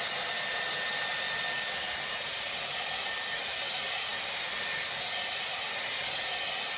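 A Dyson Airwrap blows a steady, loud whoosh of air while drying hair for a bouncy salon blow-dry, with a continuous broadband hiss that holds even from start to end and no voices.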